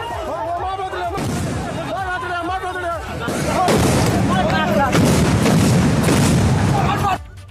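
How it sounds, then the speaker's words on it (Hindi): Hand grenades go off one after another during a clash among supporters at a block chief nomination, loud booming blasts over shouting crowd chatter and raised voices. "एक के बाद एक धमाकों की आवाज आई,"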